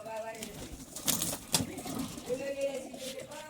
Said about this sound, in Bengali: এটা মালবাই পায়রা।